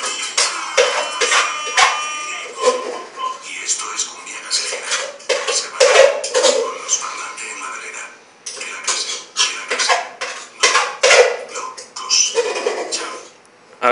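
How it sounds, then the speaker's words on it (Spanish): Utensils scraping and clattering against a cooking pot, a dense run of metallic scrapes and clinks close by, continuous with brief pauses. "Raspando la olla,"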